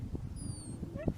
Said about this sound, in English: he heard a dog-like whimper behind the trees